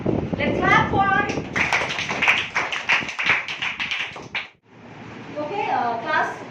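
A nursery class of children claps together, a loud rapid burst of hand claps mixed with young voices, then a brief pause and softer talk.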